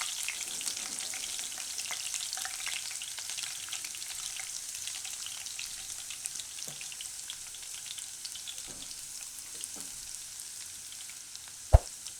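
Garlic sizzles and fries steadily in hot oil in a home kitchen pan, a continuous crackling hiss with a few sharper pops and one loud clatter near the end.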